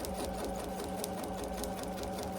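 A sewing machine stitches a basting box, running as a fast, continuous whirring rattle that stays close and steady throughout, with no talk.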